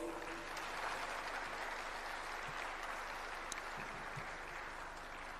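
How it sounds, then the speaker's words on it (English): Steady applause from a crowd, continuous and moderately loud for the whole stretch, with no voices over it. "a bigger round of applause"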